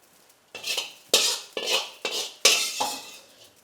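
Fried rice scooped out of a pan into a bowl, five or six loud, distinct scraping strokes of a metal spoon against the pan, evenly spaced and close up, with no talking.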